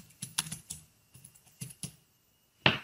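Keys clatter on a computer keyboard as a password is typed, in short irregular bursts of crisp taps with brief pauses, ending in a sharper final keystroke, close and fairly quiet with no speech.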